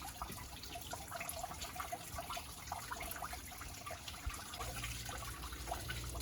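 Water from a garden hose rushes steadily through a Toyota Corolla's radiator during a coolant flush, a continuous gurgling splash with small bubbling bursts, close and unbroken.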